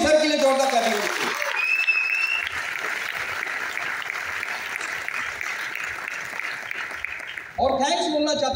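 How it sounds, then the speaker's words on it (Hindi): Sustained applause from an audience, steady clapping that fills the room for several seconds, with a voice briefly heard at the start and end. "जोरदार ताली दीजिए।"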